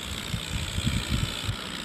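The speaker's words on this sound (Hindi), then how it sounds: "बहुत संभाल कर चलाना पड़ता है ट्रैक्टर यहाँ पर।" A Swaraj tractor engine in an Indian tractor video game putters at idle-like revs, with a steady low chugging pulse and uneven bumps over a constant background hiss.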